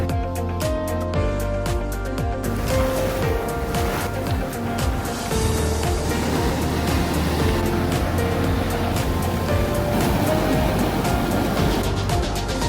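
Ocean surf on a beach in Bali rolls in as a broad, loud, steady wash, with a rumbling low undertone that may include passing motor traffic, and no speech.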